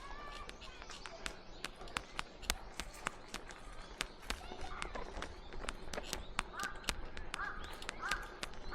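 Crows call in harsh caws near a man who has trained them to land on his hand, heard over a dense run of sharp repeated clicks and scuffs, with the birds moderately close and the calls bunching toward the end.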